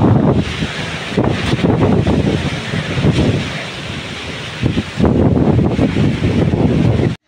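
Strong typhoon wind from Typhoon Kristine as it nears landfall, fierce enough to nearly topple trees, roaring and buffeting the microphone loud and continuous, with gusts surging and easing throughout and no voices.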